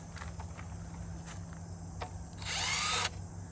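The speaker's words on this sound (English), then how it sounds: "this is a 1/4 impact driver" A 1/4 inch impact driver removing Jeep JK headlight screws gives one short, loud whirring burst near the end, close by, after quiet handling noises and light clicks.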